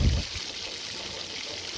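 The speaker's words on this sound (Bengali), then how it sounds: "তারপর কর্নফ্লাওয়ার গুলে রেখেছিলাম একটা বাটির মধ্যে, সেই জলটা অ্যাড করে দিলাম।" Cornflour mixed with water is poured from a bowl into egg gravy in a pan, a soft, steady liquid trickle heard close up for a couple of seconds after a brief thud at the start.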